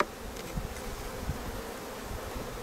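Steady, near buzzing of many honey bees at an open hive during a colony inspection, with a couple of soft bumps from frames being handled.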